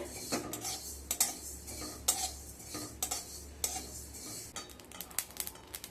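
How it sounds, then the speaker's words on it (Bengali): Mustard seeds dry roasting in a wok, with repeated sharp scrapes and clinks of a spatula against the metal and light popping crackle, close and fairly quiet. "সর্ষেগুলোকে শুকনো খোলায় ভালোভাবে ভেজে নিতে হবে।"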